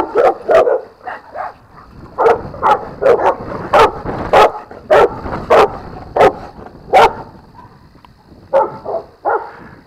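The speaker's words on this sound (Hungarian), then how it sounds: "Kutyák azért rendesen haragszanak rám," Several dogs bark in repeated bursts and yips, fairly close and loud, during a rural walk along a green-belt hiking route between Nosztori rest area and Nemesvámos, Hungary.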